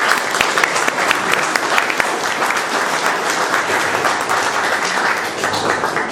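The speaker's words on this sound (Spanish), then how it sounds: "Les pido por favor que le reciban con un fuerte voto de aplauso." Strong, continuous applause from a conference audience welcoming a speaker on the origin of the Incas, a dense crowd of clapping hands filling the room at close range.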